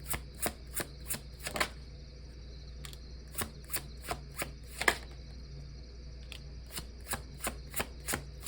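Deck of tarot-style trump cards shuffled by hand, a series of quiet, crisp riffling snaps in an uneven rhythm, close and soft against a low background hum.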